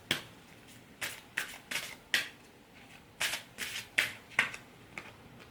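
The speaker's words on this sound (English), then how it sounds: "Let's have one more card from this deck." Cards are handled and drawn from a deck, giving a run of crisp riffling, snapping flicks at uneven intervals, close by and with no one talking.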